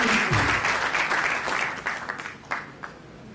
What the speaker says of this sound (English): Graduating back, please clap for your parents.